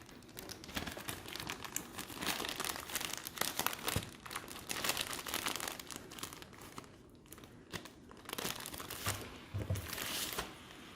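Close, continuous crinkling and crackling of a Lithuanian MRE pouch being handled and wrapped with tape, dense rustling plastic sounds throughout with no talking.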